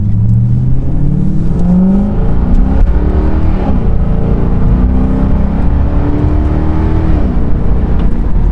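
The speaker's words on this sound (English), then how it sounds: "the cold start on this thing is pretty loud" A Lexus LS430 engine cold-starts loud and close, its exhaust with no mufflers or resonators droning with rising and falling revs in a continuous heavy rumble.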